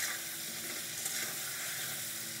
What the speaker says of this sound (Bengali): ভালো করে একটু নেড়ে চেড়ে আমি ভেজে নিচ্ছি।